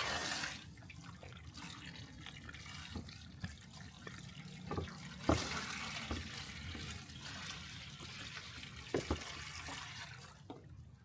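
Water runs from a tap in an animal keeper's room, a steady quiet hiss of flowing water with a few sharp knocks and clicks over it, heard close and without talk.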